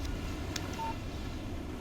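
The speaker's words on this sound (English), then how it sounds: "Text message from Barry." A short phone text message alert from the video game Alan Wake, a brief faint electronic tone over a low steady background hum.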